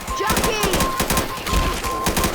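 Gunfire in the zombie shooter Left 4 Dead 2, a rapid string of close, sharp shots in quick succession under excited voices talking.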